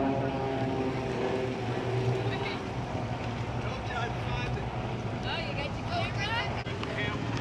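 Propeller airplanes drone steadily overhead at an airshow, a continuous engine rumble under crowd noise and nearby talking, with no clear pass-by peak.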